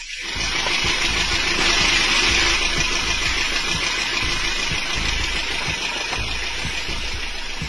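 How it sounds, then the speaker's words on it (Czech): A steady engine runs nonstop close by, a dense broadband roar with a low rumble and no breaks, like a motor idling under the hood. "Hluk motoru je snížený, že?"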